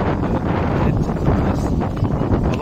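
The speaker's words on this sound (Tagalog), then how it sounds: "Lakas ng hangin, di natin mapalipad." Strong wind buffets the microphone in a steady, loud rumble throughout, with no clear voices, in Bohol, Philippines.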